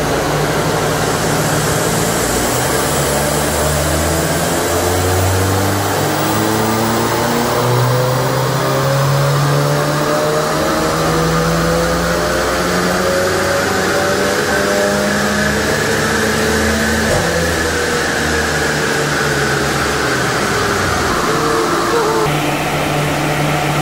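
A stage 2 remapped Audi TT mk3 engine revs hard on a dyno, its tone climbing steadily through the gears in a loud, continuous run close by, with no talking.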